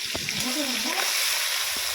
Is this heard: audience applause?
no